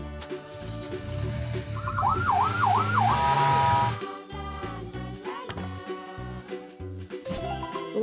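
Police car siren with a rapid wailing rise-and-fall pattern over busy cartoon-style music, loud and fairly brief before the music carries on.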